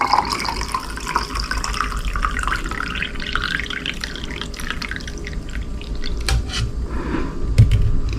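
Liquid infused with basil and lemon poured slowly through a strainer, a steady close trickle and splash of water running continuously with faint dripping.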